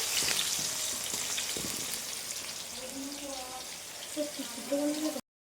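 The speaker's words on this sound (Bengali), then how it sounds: "আলুটা দুবার করে ভেজে নেবো যেহেতু অনেকটা আলু লাল লাল করে ভেজে নেবো" Potatoes fry in hot oil with a steady, close sizzle and crackle that persists throughout, while a voice murmurs faintly over it before an abrupt cut.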